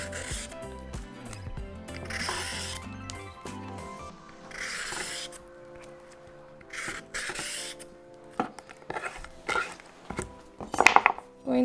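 A cucumber being peeled by hand in a kitchen while preparing aguachile verde with shrimp, giving repeated close scraping swipes in short bursts with soft clatter and knocks between strokes, and no talking.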